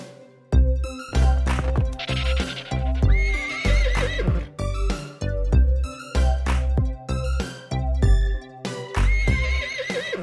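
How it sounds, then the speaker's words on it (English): A horse neighs loudly and repeatedly within a bouncy children's nursery phonics song, with the whinnies recurring in a regular rhythm over clopping hooves and musical backing. "A brown horse neighs real loud"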